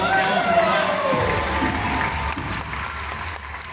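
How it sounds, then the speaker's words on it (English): An audience at a live show breaks into a round of applause, a dense, steady wash of clapping that rises after a voice and carries on under further talk. "Have that round of applause for Robert."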